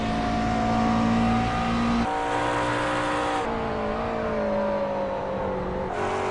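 A GT race car laps a circuit in an Aus/NZ Grand Am round, its engine a loud continuous drone with tonal harmonics that shift pitch through gear changes and throttle lifts, heard close and steady throughout with no talk.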